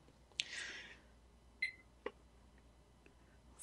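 A kitchen timer being set for a shakshuka recipe gives a few short, faint electronic beeps and clicks spaced irregularly over a few seconds, in a quiet kitchen with no talking.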